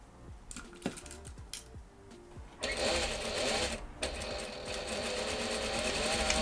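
A sewing machine stitching bloomer shorts, starting with a few short bursts and clicks, then running in a loud, steady rapid whir for the last few seconds.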